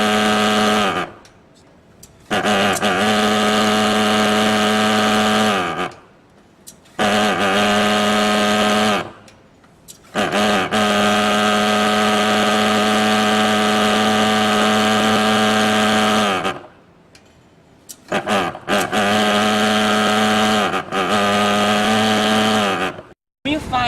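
A STORMFOG TF 35 Enrich Fogger fogging machine engine runs loud and close with a steady buzzing drone, cutting out briefly several times before restarting.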